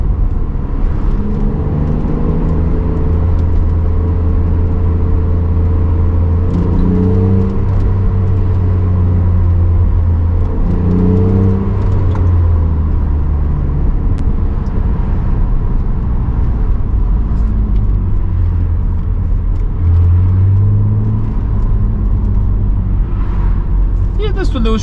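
A BMW Z3 3.0i drives in traffic with a steady, close engine hum and road rumble inside the cabin. The engine note rises and falls as it shifts gears, and someone talks over it throughout.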